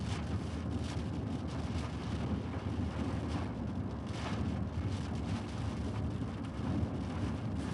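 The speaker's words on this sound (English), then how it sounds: "The heavy rain and wind event." Heavy rain and gusting wind during a central Texas severe storm, a dense continuous roar of downpour with wind buffeting the microphone, steady and loud throughout with no voices.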